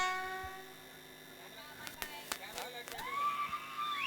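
A train passes at a distance, with rhythmic rumbling and screeching tonal whines, brief sharp clanks in the middle, quiet overall.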